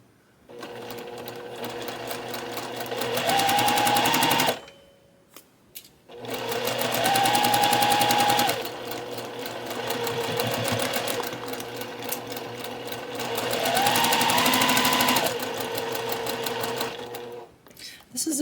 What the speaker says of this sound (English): This is a very fast sewing machine